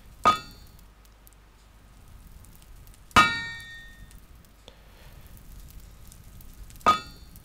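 A blacksmith hammer strikes metal on an anvil in the video game TerraFirmaCraft. Three bright, ringing clangs sound alone against quiet background, spaced a few seconds apart, each decaying with a metallic shimmer.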